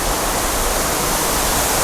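A small waterfall inside Cueva del Choco cave in Colombia gives off a steady, close rush of falling water, even and unbroken throughout with no voices.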